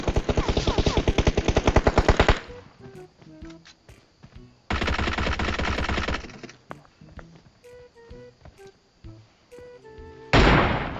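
PP-19 Bizon submachine gun in PUBG Mobile fires in long, rapid full-auto bursts, three loud sprays separated by quieter stretches of clicks, clinks and small game sounds.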